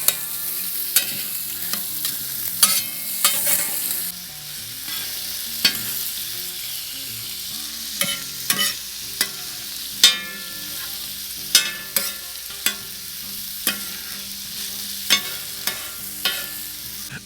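Sausage, peppers and vegetables for cheesesteak sandwiches get stirred in a pan, with repeated scraping strokes of the utensil over a steady close sizzle and no talking.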